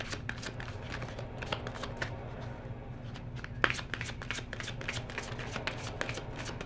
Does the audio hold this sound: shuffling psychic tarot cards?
yes